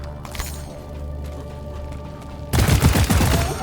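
An assault rifle in the Deep Rock Galactic game opens up in a sudden loud burst of rapid automatic fire, following a few seconds of quieter in-game ambience.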